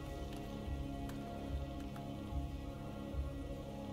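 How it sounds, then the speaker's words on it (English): Light rain falls in the video game Rain World, a soft, steady patter with faint scattered drops, heard alone with no voices. "It's slightly raining out here."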